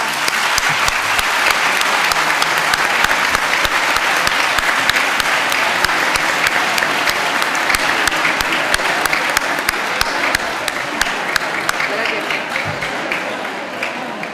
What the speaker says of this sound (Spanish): Le damos un fuerte aplauso a Pablo para animarlo.